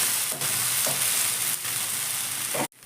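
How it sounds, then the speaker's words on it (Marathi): Flattened breakfast dough fries in oil in a pan, producing a continuous close sizzle with brief dips in intensity, then cutting off abruptly just before the end. "थोडा पाण्याचा हात लावून याला तुम्ही असं थापू शकता तेल थोडं सोडायचं आहे"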